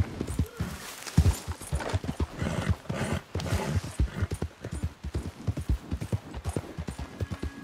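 Horse hooves clip-clop steadily in Red Dead Redemption 2 gameplay, a close, rhythmic run of hoofbeats carrying through the whole stretch with a brief whinny-like sound early on and no one talking.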